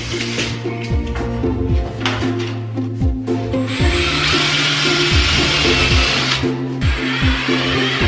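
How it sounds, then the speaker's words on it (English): Tool hangers are fastened across a wooden beam in a home coffee bar renovation, with a repeated series of close, rhythmic grinding and ratcheting bursts from a power driver, dense and continuous throughout. "I'm just gonna mount them across this beam here because this is definitely attached to the stud"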